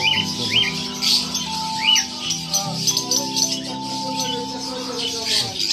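Caged birds at a bird market, also selling rabbits, squawk and chirp in sharp repeated bursts close by, a busy cluster of calls with faint rattling.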